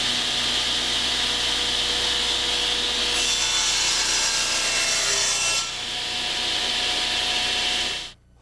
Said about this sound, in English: You set the table saw blade to 45 degrees and cross-cut the stock